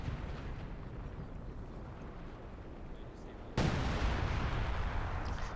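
Howitzer artillery fires in the World War II strategy game Company of Heroes 2, heard as a dense, steady battlefield rumble. A sudden louder burst enters partway through and holds.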